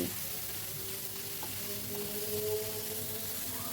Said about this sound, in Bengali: এবার কাট স্ম্যাশ করা মাছটা দিয়ে দিলাম দিয়ে সব কিছু ভালো করে মিশিয়ে নিচ্ছি সে ফ্লেমটা হাইতেই রেখেছি আর অনবরত কিন্তু নাড়তে হবে